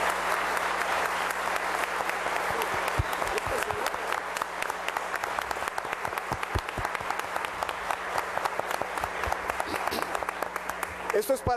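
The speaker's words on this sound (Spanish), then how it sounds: "Yo creo que eso merece un aplauso" An audience at a political candidates' forum applauds the debaters, sustained dense clapping that continues at an even level throughout, with a few voices mixed in.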